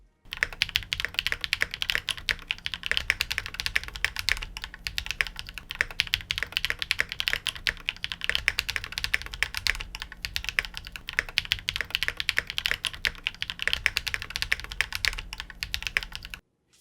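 Fast, steady typing on a Zoom 75 TIGA mechanical keyboard with cork dampening: a continuous stream of muted, close-up key clacks lasting well over a quarter minute, with no voices.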